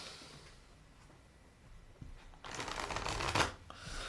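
Quiet room tone gives way to a soft riffle and flutter of tarot cards being shuffled close up, ending in a brief bridge-like rustle.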